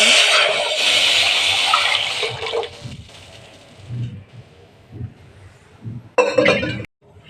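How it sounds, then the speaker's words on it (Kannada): Water splashes and pours into a cooking pot for a few seconds, followed by quiet clinks and handling of the vessel and a short sharp burst of pouring near the end. "ಮೊದಲು ಪಾತ್ರೆ ಇಟ್ಕೊಂಡು ಅದಕ್ಕೆ ಸ್ವಲ್ಪ ನೀರು ಆ್ಯಡ್ ಮಾಡ್ತೀನಿ"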